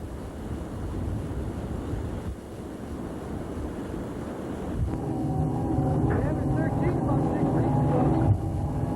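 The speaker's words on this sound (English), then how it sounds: "the valves filling the chamber are slightly opened, allowing water to flow into the chamber" Water rushes into a river lock chamber through slightly opened filling valves, a steady low churning roar that grows fuller partway through, with a faint tonal hum and a brief knock near the end.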